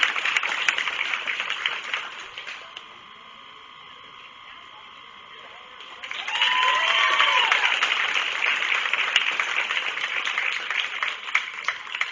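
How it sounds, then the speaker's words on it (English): Applause for children at a county fair goat show in Hocking County, clapping that fades to a quiet gap, then returns as a full burst of crowd applause with a short whistle-like tone. "Let's give these kids a nice round of applause."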